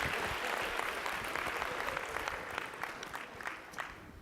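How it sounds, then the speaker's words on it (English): An audience at a motivational talk applauds to honor Bill, with dense, steady clapping from many hands that holds at a moderate level for the whole stretch. "Give Bill a hand round of applause, man"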